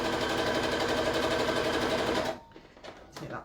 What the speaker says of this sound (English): carry on sewing to the end